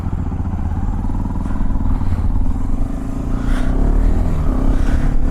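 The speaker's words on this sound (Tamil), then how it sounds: "ஓகே மக்களே, வண்டியை ஸ்டார்ட் பண்ணிடலாமா?" A Hero XPulse 210 off-road motorcycle engine runs loud and close, a steady throbbing idle that swells in brief revs throughout, with no talking.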